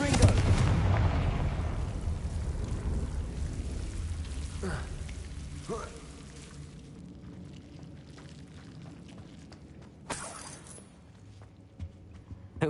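A Confringo blasting spell from the Hogwarts Legacy video game erupts in a loud, roaring burst that slowly fades. A few sharper impacts follow later, over a steady rumbling background.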